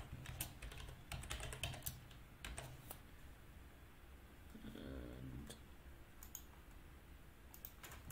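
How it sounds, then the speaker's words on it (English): A password is typed on a computer keyboard in quick irregular bursts of crisp key clicks, close and fairly quiet, with a short pause in the middle and no talk. "Type in my password."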